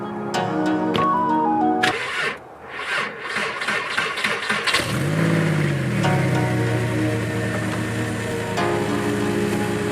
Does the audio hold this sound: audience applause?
no